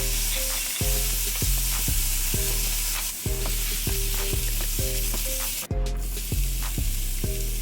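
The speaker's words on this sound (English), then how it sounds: "the next thing we're gonna do is cook up these mushrooms" Mushrooms fry in a pan with a loud, continuous sizzle, while a steady series of regular ticking or clicking sounds repeats about twice a second underneath.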